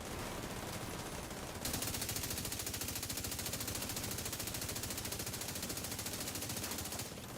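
Automatic rifle fire rattles in The Division 2, a long sustained burst of rapid, evenly spaced shots that runs for several seconds and is loud and close, with quieter moments at the start and end.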